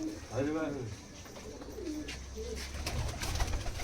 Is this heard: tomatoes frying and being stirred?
no